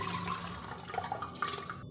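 Water poured into a pressure cooker on a gas stove for masoor dal khichdi, a steady splashing fill that runs close and fairly quiet for about two seconds.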